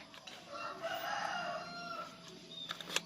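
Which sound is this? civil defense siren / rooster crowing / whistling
rooster crowing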